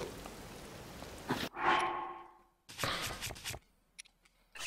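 Rain falling in Zelda: Tears of the Kingdom, a steady broadband hiss that breaks off into quieter stretches and a bright whooshing sweep before returning in short bursts, with no talk.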